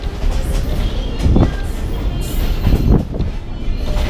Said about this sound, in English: train to Mandalay from Myanma.